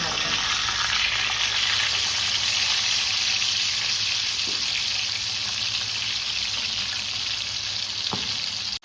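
Pomfret sizzling steadily on a hot tawa on its second side, a loud, close, continuous frying hiss with no break until a brief stop at the very end.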